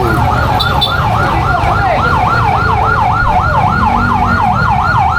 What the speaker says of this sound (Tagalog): At meron pa isang emergency rin, emergency. At isang uh, ambulansya naman.